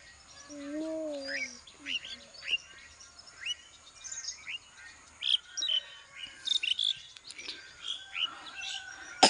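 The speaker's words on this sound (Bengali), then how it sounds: "পাখির কিচিমিচি ডাক" Small birds chirp and tweet in a green spot with grass and trees. Short bright calls come in scattered bursts over a quiet background, and a lower warbling call is heard near the start.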